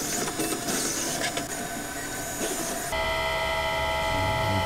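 A machine cutting a chamfer on the buttonhole of a GoPro case, a loud steady grinding and whirring that shifts to a higher, more tonal whine partway through.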